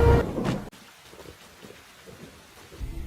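A strong lightning strike with thunder in a film: a loud crack and rumble at the start, then steady rain hissing with low, distant rumbles building again toward the end.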